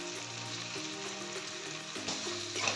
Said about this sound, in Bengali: দিয়ে দিচ্ছি জিরের গুঁড়ি, ধনের গুঁড়ি, আর দিয়ে দিচ্ছি লঙ্কার গুঁড়ি।